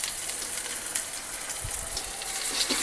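Short ribs sear in a hot pan, giving a steady, close, hissing sizzle of frying fat with a few soft pops and bumps, and no talking.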